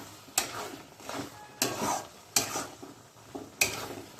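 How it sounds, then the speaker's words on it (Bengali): Carrot halwa cooking in milk and sugar is stirred steadily in a pan, with a spoon scraping the bottom in regular strokes roughly every second over a soft sizzle, close and moderately loud. "মিনিট 15 ধরে টানা নাড়িয়ে যাচ্ছি।"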